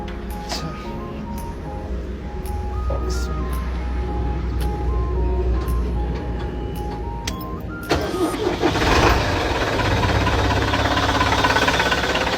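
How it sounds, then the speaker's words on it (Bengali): A bus engine cranks and starts, then settles into a rough, loud idle with a steady mechanical rumble close by. "ইঞ্জিনটা একটু স্টার্ট করে আপনাদেরকে দেখাই"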